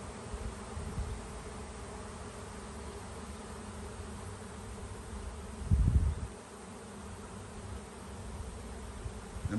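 A large honeybee swarm buzzes in a backyard, a steady dense hum of countless wings heard throughout, with a brief low rumble partway through.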